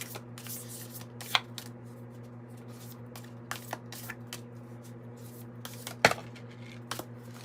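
A Kim Krans Wild Unknown Archetype tarot deck is shuffled quietly by hand, giving soft scattered riffles and taps over a steady low hum.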